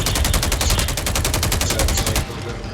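Rapid SMG fire in a video game, a loud, steady stream of evenly spaced shots lasting over two seconds before cutting off abruptly.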